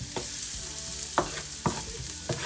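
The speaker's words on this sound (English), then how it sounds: "I'm just scraping off all of the drippings." Onions fry and sizzle in a pan while a utensil scrapes up the browned drippings, with several distinct, close scraping strokes over a steady hiss and no talking.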